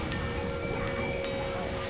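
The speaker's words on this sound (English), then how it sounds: "It's pouring with rain." Heavy pouring rain falls in a steady, dense hiss. It is mid-level in loudness with no voices.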